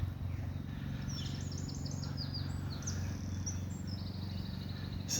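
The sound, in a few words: birds and crows calling in a park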